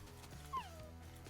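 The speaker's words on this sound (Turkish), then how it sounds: "Köpekleri bayağı çoğalttık arkadaşlar." In Minecraft, a dog gives a short high whimpering yip over a steady low game background, faint and brief.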